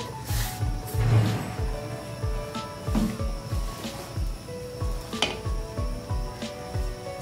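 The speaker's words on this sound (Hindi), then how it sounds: "ऑयल गर्म हो रहा है, इसमें रफली चॉप प्याज डाल देंगे।" Roughly chopped medium onion frying in hot cooking oil for chicken cabbage curry, a steady close sizzle with repeated scraping stir strokes and light clatter of a spoon against the pot.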